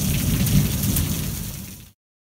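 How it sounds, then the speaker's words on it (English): Thunderstorm with heavy rain near a lake, a steady loud rush of rainfall with deep low rumble, fading slightly before cutting off abruptly, no voices. "so the storm's pretty much done"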